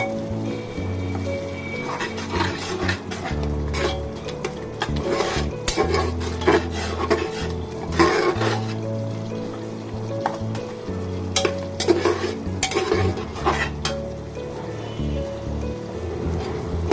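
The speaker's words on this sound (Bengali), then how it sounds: "মশলাটা ভালো করে কষিয়ে তারপর আপনাদের সঙ্গে আসছি" Cumin paste and spices being stirred and fried in a pan give a continuous close sizzle, broken by repeated scraping and stirring strokes of a utensil, with no talking.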